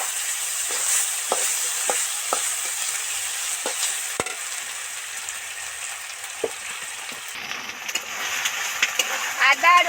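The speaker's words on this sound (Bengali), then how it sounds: "এবার এর মধ্যে আদা রসুনের পেস্টটা দিয়ে দেব এবার ভালো করে দু চার মিনিট আবার ভাজতে থাকবে" Ginger garlic paste frying with onions in oil in a pan for a snakehead fish curry, giving a continuous close sizzle with occasional spatula scrapes and taps, and a voice talks briefly near the end.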